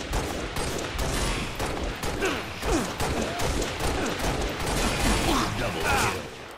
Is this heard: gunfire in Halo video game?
yes